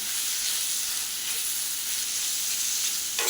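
Homemade spice masala with coriander powder stir-fried for asparagus-leaf greens, giving a steady, close sizzle and fry hiss that holds evenly, with a small bump at the very end.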